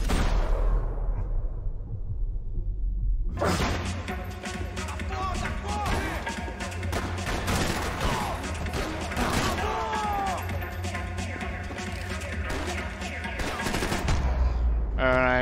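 Rapid bursts of automatic gunfire in a video game, dense cracking shots layered with clanks and debris, loud and sustained for about eleven seconds after a quiet start, then cutting off.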